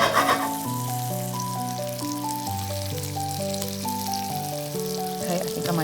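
Scallops sear seasoned side down in a hot pan, a steady close sizzle running beneath a bed of background music for several seconds.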